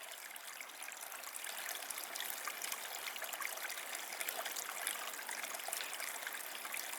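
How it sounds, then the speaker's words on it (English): Water trickles steadily at a trail water source on the Long Trail in Vermont, a continuous soft babble close by with no talking. "Here we have the Holt of the Hollow water source."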